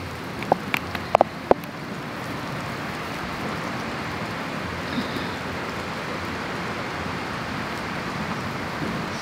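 Heavy rain pours down in a dense, steady hiss, with a few sharp knocks near the start.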